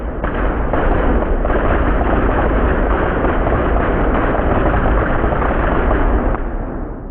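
Rumbling explosions from a stop-motion LEGO city destruction scene, a continuous loud barrage of booms and blasts sustained for several seconds before easing off at the end.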